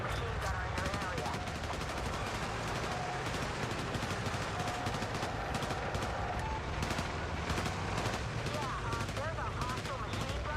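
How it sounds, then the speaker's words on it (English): Machine gun fire in a video game rattles in continuous dense bursts, loud and steady throughout, with faint game radio voice chatter mixed in. "There's a hostile machine gunner in your area."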